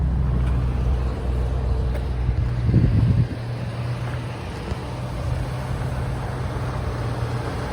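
A 1976 Mercury Marquis Colony Park engine cranks, catches and settles into a low, steady idle that rumbles on alone.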